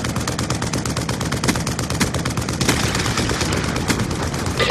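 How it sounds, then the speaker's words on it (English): Dense automatic gunfire and heavy explosive fire from a VTOL warship killstreak in a Call of Duty match on the Nuketown map, loud and continuous with rapid bursts throughout. "VTOL warship on standby. VTOL warship inbound."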